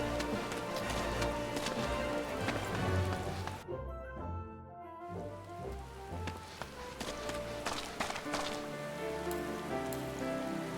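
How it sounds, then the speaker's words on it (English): Steady rain pattering on surfaces in Final Fantasy XIV, a dense continuous hiss of drops with a brief lull midway, no talking. "Why's it gotta be raining now,"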